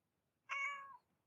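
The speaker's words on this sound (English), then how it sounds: "that was my cat." A house cat gives one short, clear meow, close and isolated against near silence.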